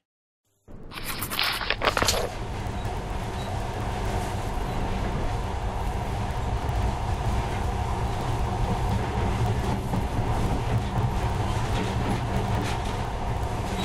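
A monorail train in the video game Metro: Last Light runs steadily with a continuous rumbling, whooshing roar that starts abruptly after a brief silence and stays loud and even throughout.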